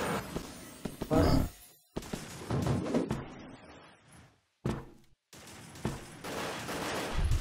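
Rapid bursts of automatic gunfire from the online shooter Wolfteam come in choppy clusters separated by brief silences, with players talking over the shooting.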